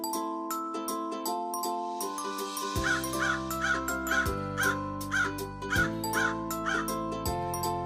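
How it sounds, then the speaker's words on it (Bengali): Crow caws repeat in a quick, regular series over steady, bright cartoon-style music, close and clear, forming the middle and later part of the passage. "কতে কাক"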